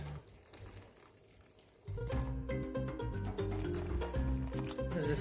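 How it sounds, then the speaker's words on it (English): Just-boiled water is poured into a cooking pot of samp and beans, a sudden steady splashing stream that runs continuously after a quieter start, with a washing machine humming in the background. "So now I'm going to add water that is just boiled."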